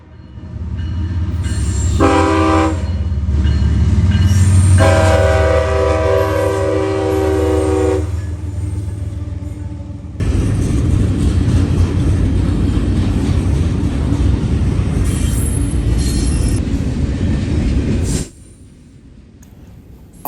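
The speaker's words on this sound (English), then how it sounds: "Eastbound intermodal and autorack train I-168, Chicago, Illinois to Port Newark," A CSX eastbound intermodal and autorack freight train on the Toledo Subdivision rolls past loudly, sounding its horn in a few long blasts before the steady roar of wheels and cars carries on, then drops away sharply near the end.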